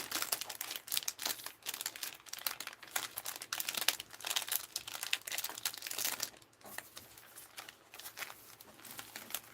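Papers crinkle and rustle as they are folded back and packed into a box during a craft haul, a steady run of close, dense crumpling that pauses briefly partway through.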